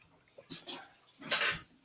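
Water splashing and running over bubble-making test equipment as it gets rinsed, in two brief hissing bursts close by, with no talk over them.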